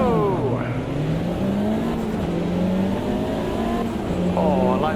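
Formula-style race car engine in a VR racing game, droning loudly and steadily throughout with rising and falling pitch sweeps as it shifts gears and accelerates, with a voice talking faintly over it.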